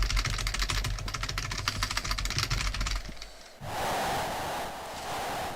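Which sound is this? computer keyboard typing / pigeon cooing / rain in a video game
computer keyboard typing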